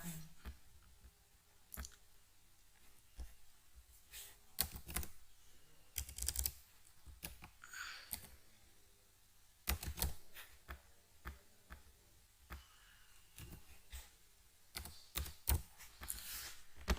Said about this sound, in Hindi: यहाँ पे नाम हम टाइप कर लेते हैं